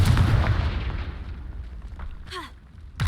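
A Confringo fire spell explodes in the Hogwarts Legacy video game, a loud booming blast that rumbles and fades over a few seconds, followed by short magical whooshes and a final sharp burst.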